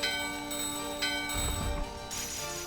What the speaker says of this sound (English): Curiously as well, every time you ring a bell